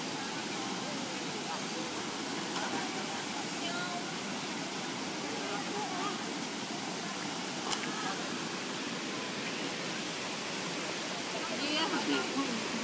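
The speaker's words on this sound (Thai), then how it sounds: "น้ำตกอยู่นู่น" Boripat waterfall in Ratthaphum district, Songkhla, gives a constant broad rushing roar that fills the whole stretch evenly, with occasional faint sounds over it.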